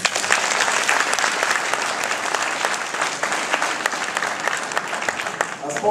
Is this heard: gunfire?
no